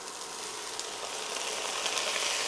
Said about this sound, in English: And we'll let those fry for 5 minutes